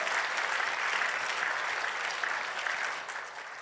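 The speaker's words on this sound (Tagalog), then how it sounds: "Ngayon ang pumalakpak mga tao rito." A crowd at a healing service bursts into loud, sustained applause, a thick, continuous roar of many hands clapping that holds for several seconds before easing slightly at the end.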